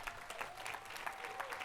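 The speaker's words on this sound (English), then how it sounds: "A hand of applause, yes." Audience applause at a poverty summit talk, a steady wash of many hands clapping at moderate distance with no voices over it.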